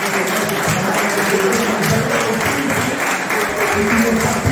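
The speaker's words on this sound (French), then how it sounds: "Donc beaucoup d'applaudissements pour eux, force pour eux." Audience at a powerlifting competition clapping continuously, a dense, sustained burst of applause from a sizable crowd, loud and close.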